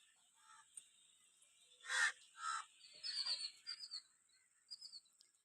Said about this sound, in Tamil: இப்போ காக்கா கத்துது பாரு